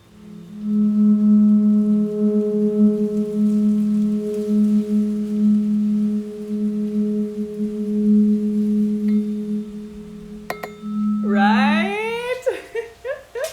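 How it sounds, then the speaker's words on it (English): Two tuning forks ringing together, a steady sustained hum with faint higher overtones lasting many seconds, close by, then a voice speaks near the end. "I could hear both of the tuning forks."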